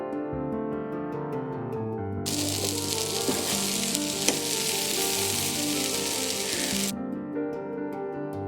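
Cooked tapioca (cassava) hits a hot pan for kappa thoran and sets off a loud, dense sizzle that lasts several seconds before cutting off, with steady background music throughout.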